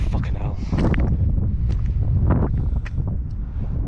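Strong wind gusts roar across an outdoor microphone, a continuous blustery rush with a few scuffing footsteps and a voice speaking over it.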